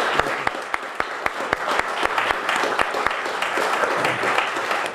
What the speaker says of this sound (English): I'd just like to offer a round of applause for him coming out